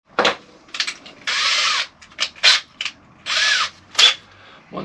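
Power drill with a reasonably sharp HSS bit boring through a van floor, heard as several loud close bursts of high whine separated by short pauses, with a few brief knocks between runs.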